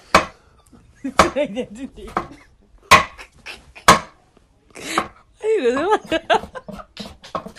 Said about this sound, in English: We cut our okra. Make sure to chop it very well.